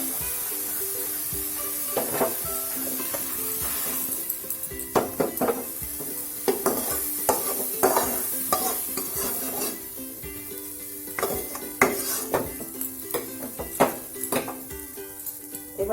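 Shredded cabbage frying in oil in a pan for a Bengali cabbage ghonto, stirred with a metal spatula: a steady sizzle under repeated scraping and clinking strokes, close and fairly loud, with no talking.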